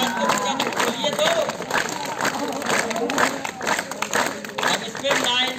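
NCC cadets clap together with fully open hands, a dense, steady burst of crowd applause that runs throughout, with voices mixed into the clapping.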